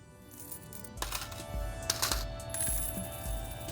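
Coins clinking and dropping as passengers pay the fare on a bus in the Motor Town driving game, several bright metallic jingles over a steady low engine rumble, close and moderately loud, no talking.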